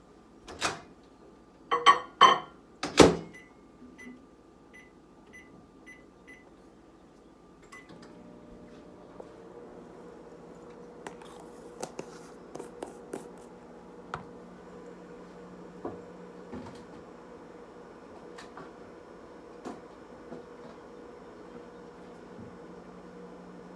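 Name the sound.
microwave oven running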